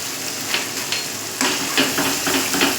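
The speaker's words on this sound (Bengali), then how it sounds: "আমি মশলাটা ভালো করে কষিয়ে নেব।" Ground spices, turmeric and cumin among them, sizzle in oil in a pan for matar paneer, a steady close hiss with a few soft stirring scrapes and no voices.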